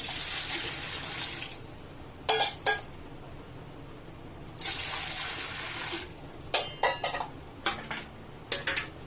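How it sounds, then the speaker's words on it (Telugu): Water pours into a bowl in two short gushing bursts, separated by sharp clinks and taps of dishes and utensils in a quiet kitchen. "ఈ బౌల్లో నీరు వేసుకున్నాం"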